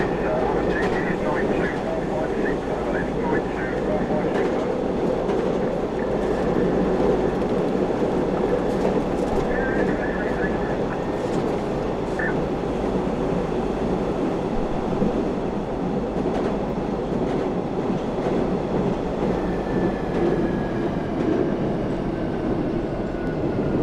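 London Underground Central Line 1992 Stock train running steadily in the Open.BVE simulator between Ealing Broadway and Liverpool Street, a continuous loud rumble of motors and wheels with faint tonal whines throughout.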